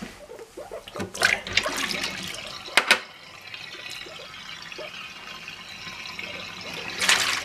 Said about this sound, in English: just want to change the water for a final rinse